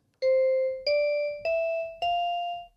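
Four clean sampled bell-like notes from a Kontakt instrument, each struck cleanly and ringing smoothly before the next, stepping gradually upward in pitch in a clear, close, even sequence.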